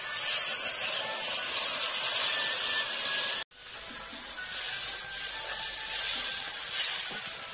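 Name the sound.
water poured into hot pan of rohu fish curry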